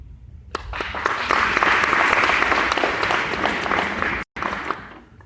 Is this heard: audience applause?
yes